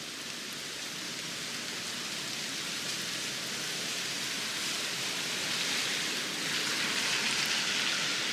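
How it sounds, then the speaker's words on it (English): Rain falling outside a window, a dense, even hiss of drops on surfaces that holds steady and swells slightly toward the end, with no voices. "Let's sit and listen to the sound of rain for just a moment."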